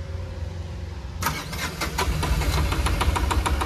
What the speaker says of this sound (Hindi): अब गाड़ी स्टार्ट करवाते हैं। स्टार्ट करो गाड़ी ज़रा